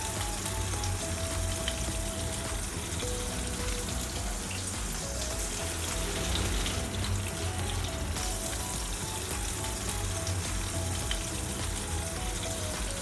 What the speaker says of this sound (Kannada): ಇವಾಗ ಎಣ್ಣೆ ಕಾದಿದೆ, ಶಾಲೋ ಫ್ರೈ ಮಾಡ್ಕೊಳ್ಳೋಣ.